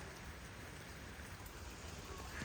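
Heavy rain pours down in a steady, dense hiss across a hillside setting, constant and enveloping with no break or speech.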